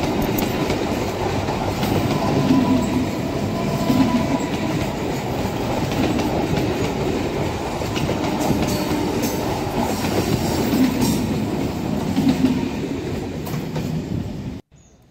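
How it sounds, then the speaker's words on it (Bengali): A Kolkata circular rail train pulls into a station with a continuous loud rumble and rhythmic wheel clatter, then cuts off abruptly near the end. "দেখুন সার্কুলার রেল ঢুকছে"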